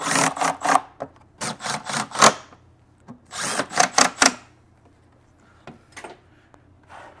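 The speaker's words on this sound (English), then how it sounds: "Just make sure that thing's seated, then put your four screws back in." Screws are driven back into a STIHL BR800 blower engine, heard as short bursts of buzzing, ratcheting driver noise in clustered groups, close up, followed by a few faint clicks.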